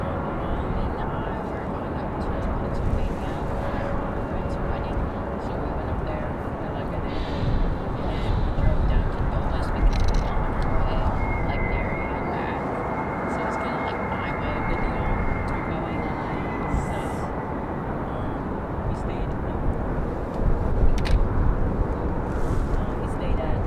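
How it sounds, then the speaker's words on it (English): A CRJ 550 regional jet arriving at Raleigh-Durham International Airport, a broad, continuous jet roar that swells slightly as it approaches, with a narrator speaking over it. "Here comes our CRJ 550."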